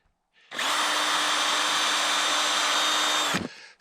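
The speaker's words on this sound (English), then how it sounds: "drill a hole in the tree" A power drill bores a hole into a tree trunk on a trapline, a steady high whine running for about three seconds close by, then cutting off.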